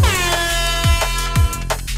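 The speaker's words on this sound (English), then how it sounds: "Got like an air horn in here." An air horn sample from a Digitakt sample pack blares in short repeated blasts, loud and close, over a low thumping beat.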